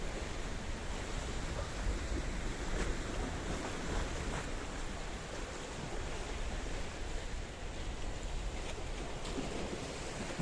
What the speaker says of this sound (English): The sea is a little bit chopsy-mopsy.